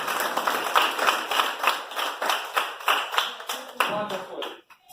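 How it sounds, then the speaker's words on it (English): Primary school pupils applauding themselves during a career day assembly with steady, rhythmic clapping in regular beats that fades out near the end, and a voice briefly heard underneath. "Give yourself a round of applause."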